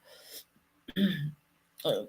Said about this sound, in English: It's just one of those stupid coughs